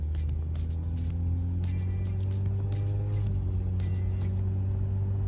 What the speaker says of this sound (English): it's kind of raspy. Probably like a hole in the muffler.